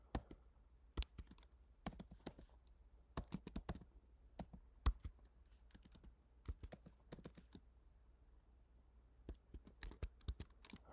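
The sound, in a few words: typing a password on a computer keyboard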